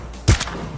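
A single sniper rifle shot in PUBG, one loud sharp report with a short tail, alone against quiet background.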